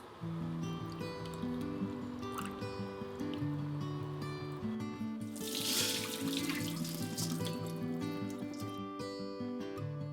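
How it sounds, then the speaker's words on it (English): Water pours steadily from a kitchen faucet as food is drained and rinsed in the sink, a continuous close splashing rush that swells briefly midway, mixed with steady tonal background sound. "I'm gonna go ahead and get this all drained and rinsed"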